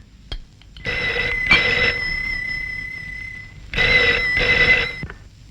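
A telephone rings nearby in two bursts of repeated electronic trills, separated by a steady tone, then stops.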